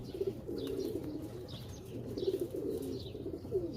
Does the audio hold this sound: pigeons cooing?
yes